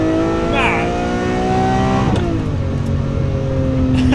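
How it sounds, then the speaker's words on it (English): A straight-piped, 710-horsepower Lamborghini with a rear-mounted V12 drones steadily close by, its pitch dipping and settling midway, while people talk over it. "So the problem with this car is it has a massive V12 in the rear, right? Yeah, I can hear."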